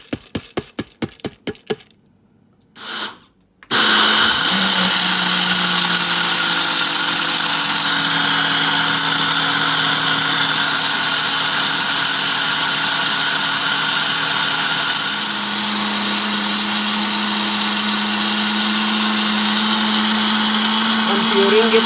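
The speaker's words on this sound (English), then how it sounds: "Now I'm adding the rice into the mixie," A mixer grinder purees soaked rice with water for dosa batter, a loud steady motor whine that starts abruptly after a few sharp knocks and runs continuously, dipping slightly in pitch partway through.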